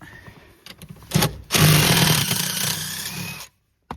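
A cordless power tool spins out a fastener behind a small plastic cap in the centre console of a Land Rover Defender 90 L663, with a loud whirring burst of about two seconds after a few short clicks, then silence.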